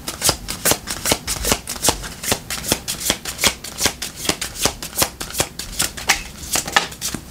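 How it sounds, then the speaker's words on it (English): Tarot cards are shuffled in a steady run of crisp, rapid riffling flicks, close and fairly loud, continuing for several seconds with no voices. "So we're gonna pull 3 cards."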